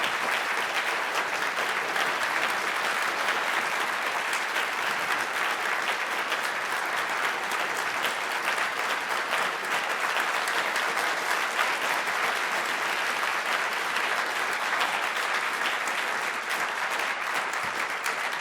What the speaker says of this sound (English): we thank him and Professor Rigger with a very, very warm applause